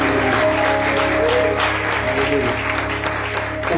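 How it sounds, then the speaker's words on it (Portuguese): Church congregation applauding together, a dense, loud and steady clatter of many hands that continues throughout, heard from within the crowd. "Podem aplaudir o Senhor?"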